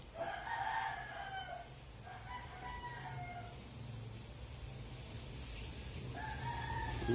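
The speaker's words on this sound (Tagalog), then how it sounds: "Yung manok gising na din." A rooster crows repeatedly from a moderate distance, its drawn-out calls rising and falling over a steady background hum, with no talking.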